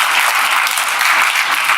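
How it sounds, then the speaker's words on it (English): Steady, dense applause from an audience at a sponsor-recognition event, loud and continuous throughout without any voices over it. "Let's give a round of applause for that."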